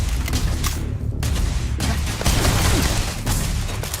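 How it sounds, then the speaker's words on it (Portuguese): Gunfire from the video game Starfield crackles in repeated bursts and booms layered over a dense, busy game soundscape, with no voices. "Quem tá atirando em mim?"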